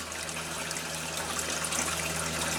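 Steady water pouring into a homestead fish tank, a continuous close gushing and splashing flow with no pauses.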